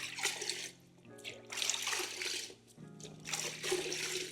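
McKee's rinseless car wash solution stirred in a bucket with a sponge, bursts of sloshing, trickling water that rise and fall in waves over a faint steady hum.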